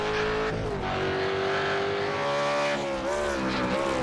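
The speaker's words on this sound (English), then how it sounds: "Just final car on track here, Mr. Chris Miller." V8 race car engine in a sim racing game at the Brands Hatch GP circuit, a loud sustained roar holding a steady pitch, dipping and rising again as the car shifts and accelerates, with no speech.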